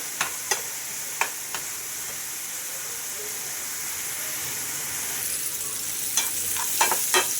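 Sliced onions fry on low gas heat in a pan for Bangladeshi egg bhuna, giving a soft, steady sizzle with occasional sharp scrapes of a spoon stirring, fairly quiet and with no talk.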